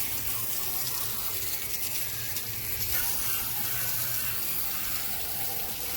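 A water hose sprays mud off the underside and sides of a Ford F-150 FX4 pickup truck after an off-road trip. The rushing, hissing spray runs steady and close throughout, and no one speaks.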